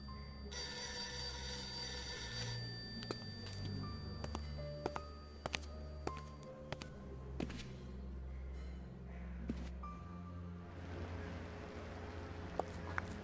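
A telephone rings in the adventure game Die Kunst des Mordens 2 – Der Marionettenspieler. A steady ring plays for several seconds over low background music, followed by scattered faint clicks and tones.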